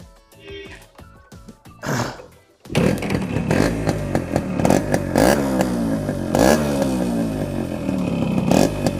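A restored Yamaha RX motorcycle engine, needing a new piston, cranks a few times, catches, and settles into a loud, steady idle nearby.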